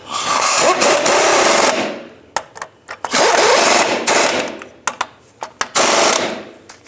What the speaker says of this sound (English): tighten up the bolts. And the two nuts